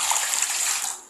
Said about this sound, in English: So I'm pouring the hot water.